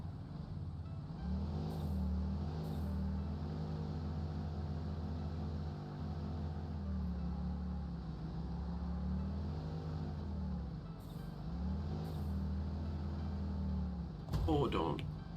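A vehicle driving in the video game Satisfactory, giving a steady, continuous engine drone whose pitch rises and falls slightly, with a brief clatter near the end.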